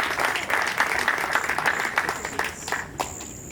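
An audience at a private evening party claps briskly, dense applause close by that holds steady and then thins out toward the end, with a faint whistle-like tone near the close.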